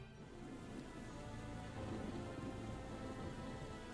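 Steady, dense rain pours in the war game Valkyria Chronicles 4, a loud continuous wash of falling water with a low rumble underneath, unbroken for the whole stretch.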